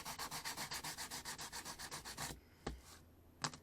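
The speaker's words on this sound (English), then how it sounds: "100 grit on it, and sand crosswise but not lengthwise" Coarse 100 grit sandpaper is rubbed crosswise over HO code 100 model railroad track, giving quick rhythmic scratching strokes, about a dozen in a row, followed by a pause and two sharp taps, close and fairly quiet.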